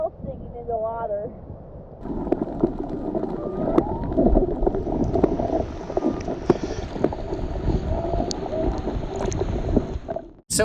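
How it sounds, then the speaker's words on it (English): Whales sing underwater off the Mauna Lani area of Hawaii Island, with a rising, wavering moan early on, then fainter calls beneath boat and water noise. People talk throughout. "You can hear the whales singing in the water."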